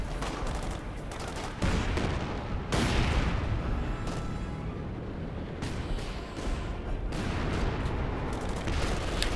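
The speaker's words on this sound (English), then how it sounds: "another light artillery barrage" A light artillery barrage in Company of Heroes 2, with dense, continuous booming shell impacts and gunfire rolling together at high loudness, several sharper blasts standing out from the steady roar.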